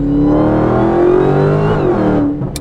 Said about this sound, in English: paddle shift, drop some gears, 6th, 5th, 4th, 3rd, 2nd, the supercharger whine